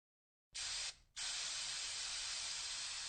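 Spray paint can hissing while tagging graffiti, a loud steady hiss that starts abruptly, stops for a moment, then resumes and continues unbroken, with no voices.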